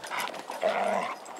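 Dogs at a wintry dog park in Shorewood yip and whine in short, close, fairly clear vocal bursts over a brief stretch, with no talking.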